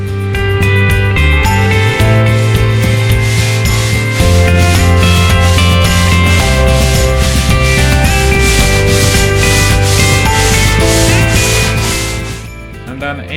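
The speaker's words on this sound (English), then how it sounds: "hand sanding to smoothen the hull" Hand sanding of a wooden strip-built kayak hull with sandpaper makes steady rhythmic rubbing strokes, loud and close, continuing without pause beneath background music.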